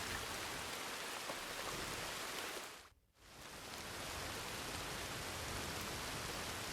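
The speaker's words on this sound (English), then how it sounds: "sitting in his tent while it rained outside" Rain falls outside a tent in the Red Dead Redemption video game, a dense, even hiss that briefly drops away for a moment before returning at full strength.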